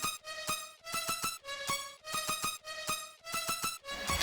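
A bright lead synth, pitched an octave up and washed in reverb, loops a punchy repeating riff in a moombahton track built in FL Studio, steady and rhythmic with no voices.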